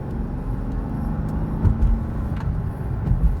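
A 2000 Mercedes E430 with a faulty transmission drives and shifts gears at roughly half throttle, giving a steady, close interior rumble of engine and road noise with slight surges.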